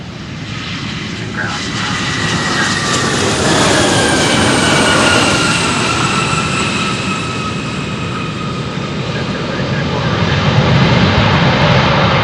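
Jet engines of a freighter aircraft near a runway at Louisville airport make a loud, steady roar with a high whine that swells and then holds, close by, with people talking underneath.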